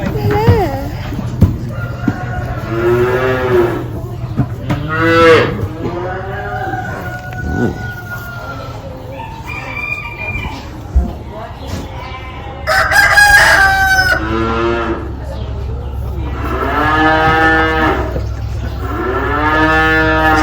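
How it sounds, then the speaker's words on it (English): Cattle, including a young calf, low and call at a stockyard pen amid a rooster's crowing, with an adult and child chatting nearby throughout; several drawn-out moos rise and fall at moderate distance over steady background murmur. "You see the baby cow?"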